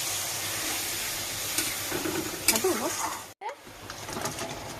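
Water poured into a hot pan of spiced oil for a fish-head curry sends up a loud, steady steaming hiss that stops abruptly, then resumes more softly.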